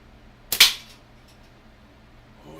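A slingshot shot striking a metal can, one sharp bright crack with a quick double impact and a short ringing tail, then quiet.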